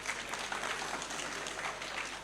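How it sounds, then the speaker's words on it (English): Crowd at the launch of a new social center in Kisumu applauds an artist, a faint, distant, even patter of clapping sustained throughout. "A round of applause for our artist."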